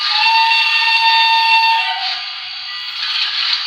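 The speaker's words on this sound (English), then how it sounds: "Got F2, which is the whistle." Steam whistle of a BLI Paragon 2 H-10s PRR model locomotive, a loud close chime-like tone held for about two seconds, then shifting and sustaining with a hissy edge, alone.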